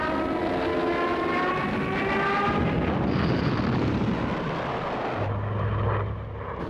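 Loud, continuous roar of World War II German Luftwaffe aircraft over the Channel, with droning engine harmonics and a dense rumbling wash like gunfire or explosions, swelling midway then easing near the end.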